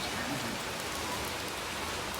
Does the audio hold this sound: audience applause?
no